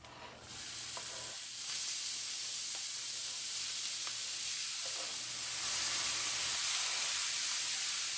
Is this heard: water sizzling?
yes